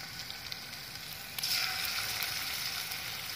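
Freshly caught fish frying in a pan, a close, loud crackling sizzle that swells suddenly about halfway through and then holds steady.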